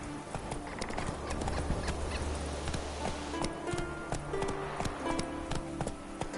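Horse hooves clip-clopping at a steady gallop in The Witcher 3, a continuous rhythmic patter of close hoofbeats with occasional game sound effects layered over it and no talk.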